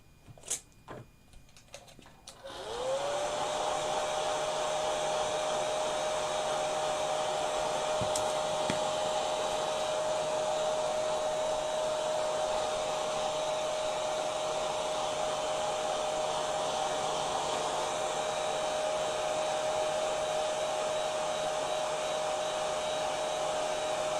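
A heat tool blows hot air onto a coffee-stained painting, switching on after a few faint clicks and then running as a steady, close, loud whooshing drone with a constant whine, heard alone.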